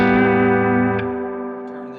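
Guitar chord through a Lil Scrapper handwired combo amp with the growl control turned up, a single distorted, harmonically rich strum sustaining and slowly fading, loud and close.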